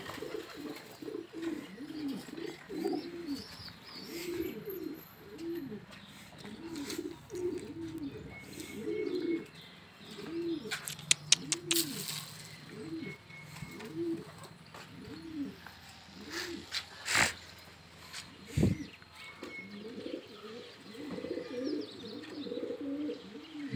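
Pigeons perched in the sun coo steadily in soft, repeated rolling calls, with occasional chirps and a few brief sharp clicks and flutters nearby.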